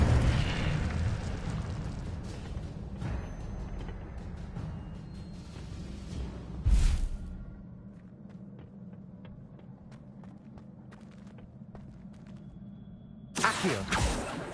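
An Incendio fire spell cast in Hogwarts Legacy, a roaring burst with rumbling booms, a loud flare near the middle and another blast at the end, with quieter ambience between.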